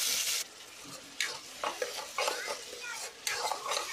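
Wet onion, ginger and garlic paste hits hot oil with a loud hiss, then steady sizzling and frying with bursts of stirring scrapes, close by, no voices.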